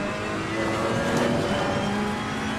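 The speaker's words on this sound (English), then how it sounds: "my engine note, when I'm getting up into the top gears, sounds a bit different" A GT3 race car in a racing video game at Monza runs in its top gears, holding a loud, steady engine drone throughout with no voices.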